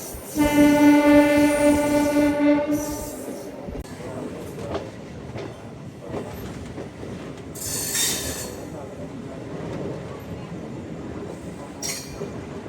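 A Nellore to Vijayawada MEMU express train's horn blares for a few seconds, then the train rumbles and rattles along steadily, with brief metallic squeals as it keeps running.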